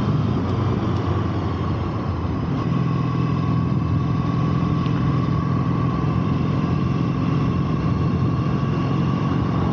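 Triumph T100 motorcycle riding through the Yorkshire Wolds, its engine a steady, loud drone with continuous wind rush over the microphone and no talk.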